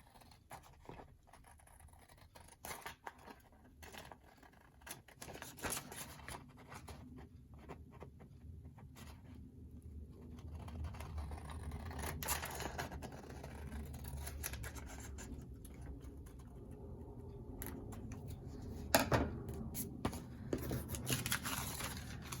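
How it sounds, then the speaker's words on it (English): Scissors cutting around paper craft material for a crafting project, soft close snipping and scraping that grows slightly louder over time, with no talk. "So I am just going to cut around."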